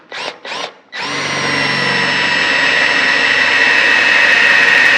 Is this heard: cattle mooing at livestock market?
no